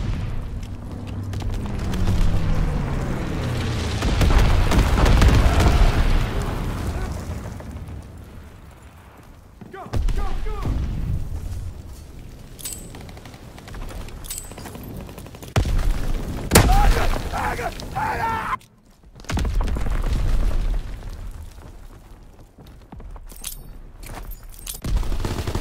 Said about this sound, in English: Incendiary bombs incoming.